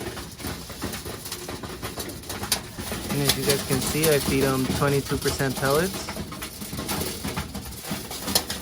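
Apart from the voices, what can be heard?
Birmingham Roller pigeons cooing at feeding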